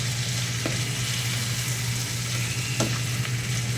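Shrimp frying in a pan with a steady, close sizzle throughout and a few brief spatters or stirring clicks; no talking.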